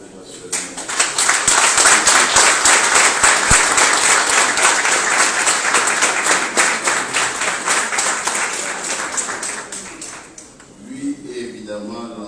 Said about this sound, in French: Je voudrais donc à ce stade de mon propos vous inviter à l'applaudir à l'ovation.